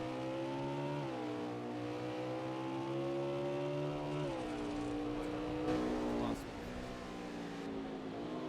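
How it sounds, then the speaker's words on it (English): Engine of the number 37 race car on board around a track in a league race, a steady loud droning roar whose pitch dips and climbs through corners and down the straight, with a commentator talking over it. "I'm on board with the 37 car as he takes his corner pretty wide as he's coming down the chute"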